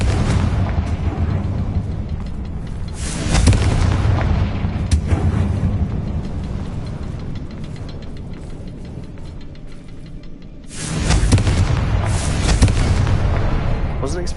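Fiery spell blasts in Hogwarts Legacy, heavy booming explosions erupting twice with broad rumbling roars, the second burst lingering loud over a continuous game soundscape.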